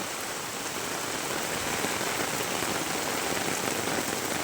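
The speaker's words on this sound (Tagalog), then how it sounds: "Sobrang lakas ng ulan." Dense, steady heavy rain pours down in Bulacan, Philippines, a constant hiss of drops hammering surfaces with no pauses or voices.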